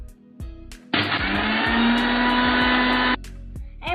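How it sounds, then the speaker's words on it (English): An electric kitchen grinder pulverises Bourbon biscuits into fine powder with a loud, steady motor whine lasting about two seconds. Light knocks and handling sounds come before and after it. "I am going to grind this"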